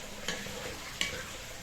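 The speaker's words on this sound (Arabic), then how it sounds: "بنفس الوقت عم احمص البصل لحتى اعمل اليخنة" Onions, vermicelli and bulgur fry together in a pot, giving a soft, steady sizzle with two sharp clicks of a utensil stirring against the pot.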